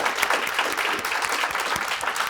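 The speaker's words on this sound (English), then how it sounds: "can we have a round of applause for Shante and May and the entire UCAA" An audience at an alumni conversation event claps in loud, continuous, dense applause from start to finish, with no voices over it.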